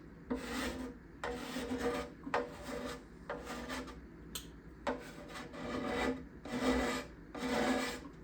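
A hand scraper cuts along the back side binding of a wooden instrument in about eight rhythmic rasping strokes. Each dry scrape is close and distinct, separated by short pauses, and nobody speaks.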